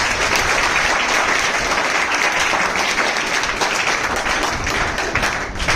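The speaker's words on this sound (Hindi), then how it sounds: "हम उनका स्वागत करते हैं तालियों के साथ" An audience gives a steady, dense round of applause to welcome the ADJ at a legal awareness event, loud and continuous throughout.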